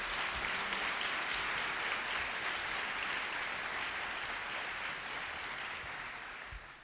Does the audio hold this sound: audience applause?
yes